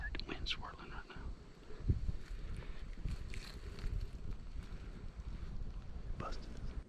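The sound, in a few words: wind blowing over salt grass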